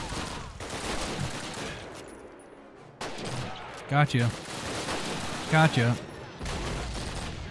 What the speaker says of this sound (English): That's an MG42, I hear.